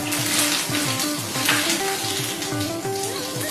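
Dried red chillies and curry leaves sizzle and crackle in hot oil, a close, steady frying hiss with rhythmic stirring throughout.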